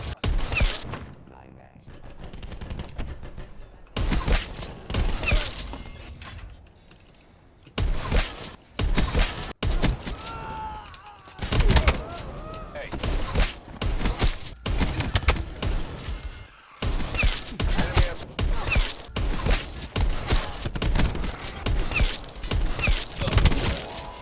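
Shotgun blasts from Black Ops 4 come as a string of loud, sharp booms spread across a fast-paced montage of kills, mixed with hit sounds and game noise and no clear talking.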